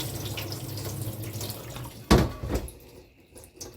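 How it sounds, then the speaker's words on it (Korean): Oysters are rinsed under a running kitchen tap in a sink, steady close water flow with a sharp splash and sloshing partway through, then quieter trickling. "얘도 이렇게 세 번 정도는 씻어줘야만이 말강물이 나오고 깨끗해져요"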